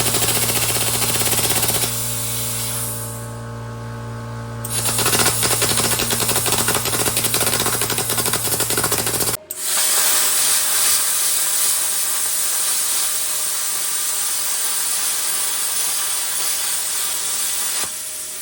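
VEVOR 50-amp plasma cutter slicing through stainless steel, a loud continuous hissing, crackling roar with a steady tone in the first half, a sharp break near the middle, then a rougher sustained hiss to the end.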